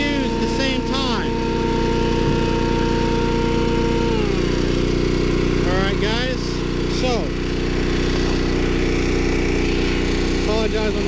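A Champion 4375/3500 dual fuel generator runs under load at an RV with a loud, constant engine drone close by, while people talk over it.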